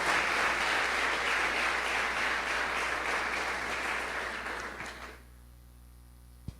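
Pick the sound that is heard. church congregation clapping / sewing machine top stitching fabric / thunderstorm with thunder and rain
church congregation clapping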